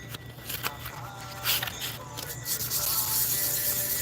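A sanding block rubs across wood during finishing work, giving repeated scratchy strokes that grow denser and steadier toward the end, close and moderately loud over a low background hum.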